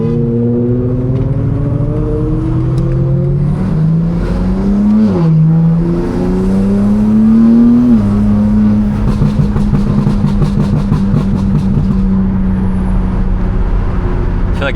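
A 750hp BMW M3 engine revs up in rising surges, then settles into a loud, steady drone at close range.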